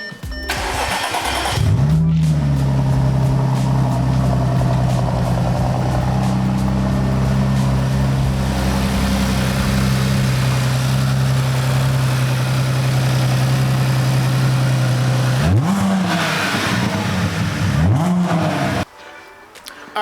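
A supercharged 3.0T engine in an Audi S4 Avant build cranks and starts, then holds a loud, steady idle close by for about fifteen seconds before revving briefly and shutting off.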